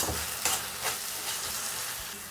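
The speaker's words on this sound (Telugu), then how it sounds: "వీటిని బాగా మిక్స్ చేసుకున్నాం" Green peas masala curry with garam masala and chili powder being stirred in a hot pan. Soft scraping strokes run over a steady sizzle of frying, close and continuous, with no talk.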